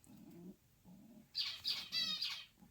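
Pet finches chirp and flutter in a cage, starting with low rustling, then a burst of bright, close chirps and calls about halfway through, with quieter movement noises between.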